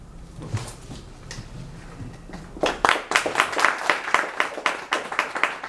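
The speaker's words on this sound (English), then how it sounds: "Oh, you don't have to applaud up there." Applause from an audience at a poetry reading breaks out partway through, a quick run of sharp, bright claps that continues steadily to the end after a quieter, murmuring start.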